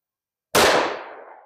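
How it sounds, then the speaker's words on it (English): A single sharp .357 Sig gunshot from a DoubleTap 77-grain lead-free round cracks loudly after a short silence, then decays through a long ringing tail. "So let's try 4 more rounds."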